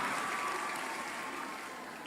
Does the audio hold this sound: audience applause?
yes